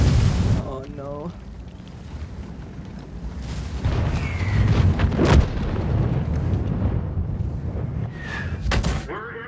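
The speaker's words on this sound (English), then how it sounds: "Artillery getting me." Artillery shells bursting around a tank in World of Tanks: several heavy booms and blasts over a steady rumbling engine, with short whistling sounds near the middle and the end.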